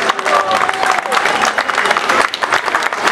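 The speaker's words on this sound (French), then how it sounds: "je voudrais qu'on fasse un tonnerre d'applaudissements pour Babette" Audience at an Overseas France and Francophonie gastronomy fair applauding a woman being honoured, sustained clapping mixed with cheers and voices calling out.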